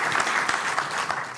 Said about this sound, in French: je préférerais un applaudissement immédiat, un nouveau pour lui